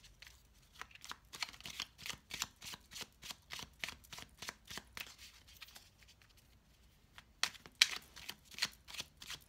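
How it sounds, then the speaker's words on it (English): Tarot cards are shuffled by hand in a steady, repeated riffle, giving soft papery flicks in quick rhythmic bursts, close and quiet, with a brief pause and a few louder snaps near the end. "I like to shuffle anyway while I take in the images"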